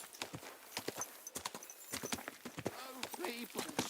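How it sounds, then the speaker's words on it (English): Horse hooves clip-clop in a steady, close rhythm in the medieval game Kingdom Come: Deliverance II, with game sounds and voices mixed underneath. "Easy, good horse."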